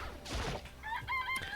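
Chicken in a coop in a video game, a short burst of clucking and squawking followed by brief higher tonal calls, fairly close and clear with no talk.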